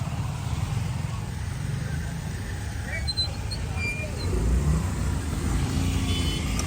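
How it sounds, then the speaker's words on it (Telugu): Vehicles passing on a road on the way to Raikal waterfalls, low engine rumble building as one draws near, with people talking over it. "అరే బండ్లు బాగా వస్తున్నాయి కదరా, పోమా"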